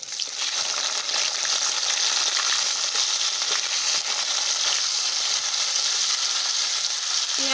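Chopped onion sizzles steadily in hot oil with bay leaf, green chilli and whole cumin, for a cabbage and potato curry. The close, continuous frying hiss stays loud throughout and carries only faint stirring touches.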